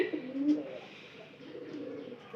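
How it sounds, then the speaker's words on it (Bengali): Pigeons coo softly indoors in a loft where eggs are being kept, low throaty calls close by at the start and again more faintly later. "ঘরের ভিতরে এই কবুতরটা একটু দেখা দরকার"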